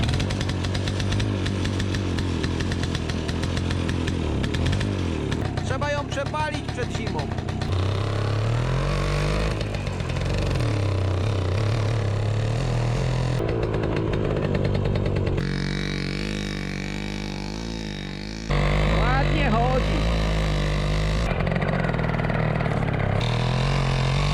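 A small two-stroke engine on an old Romet moped buzzes and revs continuously, pitch rising and falling as the throttle is worked, loud and close with no talking.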